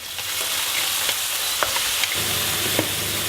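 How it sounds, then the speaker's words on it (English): Aromatics sautéing in an oiled pan over medium-high heat with a splash of soy sauce, a constant close sizzle broken by several short clinks and scrapes of stirring. "Put a little oil in a pan, medium heat, medium high, and we will start sauteing the aromatics."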